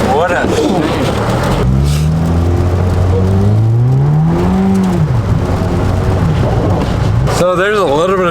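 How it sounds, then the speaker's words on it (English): A Honda Civic engine held at full throttle in snow, a loud close whine that climbs and sweeps in pitch while the car barely moves, continuous throughout with someone talking over it. "So I'm like full throttle right now, barely moving."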